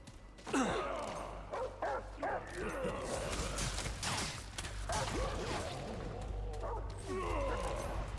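Dog barking in the video game Remnant: From the Ashes, with several sharp barks and yips over busy game noise and a steady low hum, with someone talking through much of it.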